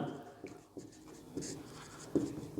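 Pen scratching across paper as notes are written by hand, short scraping strokes and taps in an irregular rhythm, quiet and close.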